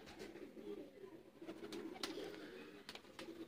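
Teddy pigeons in Sialkot coo steadily at close range, a continuous low throaty cooing with a few brief higher rustles mixed in and no talking.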